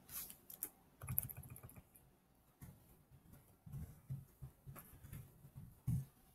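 Typing on a computer keyboard while entering student account addresses, with quick irregular clusters of light key clicks and a few sharper taps. It is close and fairly quiet, with no talking.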